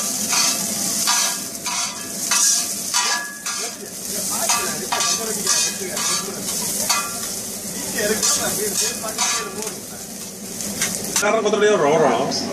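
Steady sizzling of onions and green chilies frying in a pan, with occasional stirring scrapes throughout, close and continuous.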